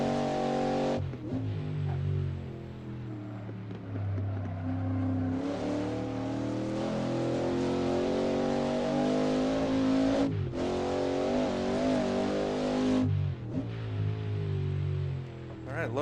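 Race car engines sound throughout an online historic sportscar race at Bridgehampton in a racing video game, where a Ford GT40 and a Bizzarini roar at high revs. The pitch climbs smoothly through the gears, with several abrupt drops at gear changes.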